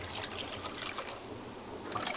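Milk-and-semai (vermicelli) pudding batter pours in a steady trickling stream into a pot lined with caramel, a soft continuous liquid splash close by with no talking.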